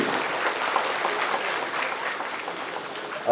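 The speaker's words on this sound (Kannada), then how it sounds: "ಒಂದು ಜೋರಾದ ಚಪ್ಪಾಳೆ ಇರಲಿ." Loud, sustained applause from an audience at a district-level award ceremony, dense and steady clapping filling the room from start to finish.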